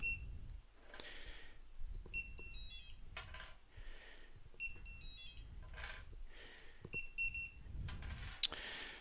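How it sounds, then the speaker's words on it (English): A phone running a farm management app buzzes and beeps in short repeated bursts as livestock are scanned one by one into a batch, the alerts recurring every second or so over steady background noise. "the phone will vibrate as you scan each one on"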